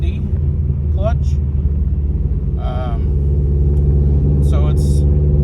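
Modified 500+ horsepower Subaru Forester XT with a loud exhaust, driving with a constant deep rumbling drone inside the cabin, while brief bits of speech break in now and then.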